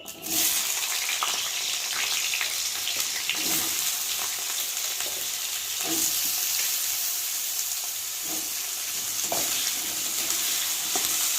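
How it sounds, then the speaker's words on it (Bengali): Potato pieces fry with bay leaf in a pan of oil, a steady loud sizzle running throughout with occasional stirring scrapes and clinks, no talking. "নিয়ে এবার আলুগুলোকে একটু ভেজে নেব ভালো করে তেজপাতার সাথে।"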